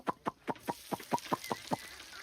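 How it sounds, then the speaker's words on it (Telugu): Chickens cluck close by in a steady series of about nine short, evenly spaced calls, with no talking over them. "ఇగో మా కోడిలు ఇగో వస్తున్నాయి చూడు"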